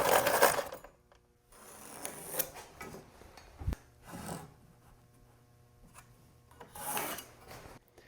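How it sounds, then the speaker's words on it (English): Pencil or marking tool scratching layout lines on solid wood door boards: short dry scraping strokes come in bursts, with a sharp knock near the middle and quiet gaps between, close and fairly faint. "I'm just marking the layout of where these horizontal pieces meet the vertical pieces"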